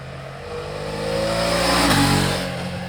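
A BMW F 450 GS trail motorcycle engine revs up, its pitch rising and then dropping back in one loud, close sweep with no voices.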